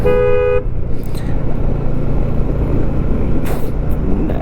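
A motorbike horn on a hill road between Kodaikanal and Poombarai gives one loud, short steady toot at the start, followed by continuous close wind and engine roar from riding.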